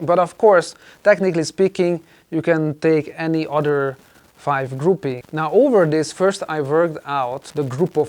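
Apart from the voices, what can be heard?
No everyday noises stand out.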